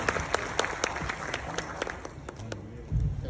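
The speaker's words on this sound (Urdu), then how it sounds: "آپ کی بھرپور تالیوں میں فیصل عباس" An audience at a Sargodha digital conference keynote claps to welcome a speaker onto the stage, giving a steady ripple of applause across the room that swells slightly near the end.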